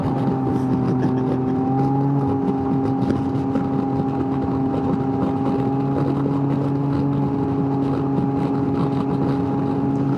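A Can-Am Ryker fitted with a Stage 3 power kit and S1R exhaust pulls hard under acceleration, its engine drone steady and loud with strong wind buffeting throughout and no talking.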